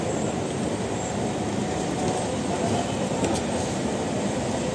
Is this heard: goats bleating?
no